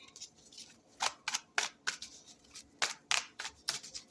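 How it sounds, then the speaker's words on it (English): A deck of tarot cards being shuffled up close: a string of crisp riffling bursts arriving in uneven clusters, with faint room hush between them and no talking. "Shuffle for Aquarius. See, this is like my intuitive deck."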